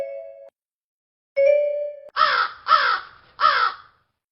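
A crow gives three harsh, rasping caws in quick succession, close and clear, after two short bell-like tones at the start.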